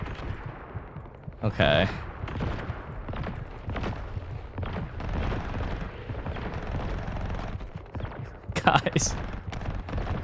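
Gunfire from The First Descendant video game, bursts of shots running under steady talk with louder blasts near the start and again near the end.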